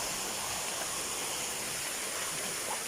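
Candungos Falls in Marabut roaring steadily, a dense continuous rush of falling water heard up close and loud, with no voices.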